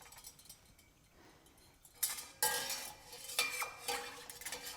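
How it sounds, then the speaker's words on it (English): Milk heating in a pot is stirred with a dairy thermometer, giving clinking and scraping strokes against the pot that start faint and become louder and more frequent in the second half. "And stir it occasionally as it's heating up here."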